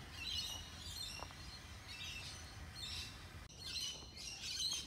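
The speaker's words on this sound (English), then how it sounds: "as the birds chirp away in the background over there" Birds chirp and squawk in bursts at a property site, with repeated high tweets and calls coming from moderately far off over a steady outdoor hum and no one talking.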